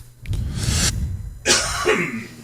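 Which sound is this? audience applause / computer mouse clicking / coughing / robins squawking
coughing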